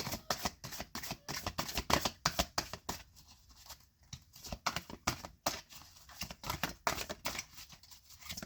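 Tarot cards being shuffled by hand, a steady run of crisp riffling and flicking bursts that pause briefly midway before resuming, close and fairly quiet with no voices over them.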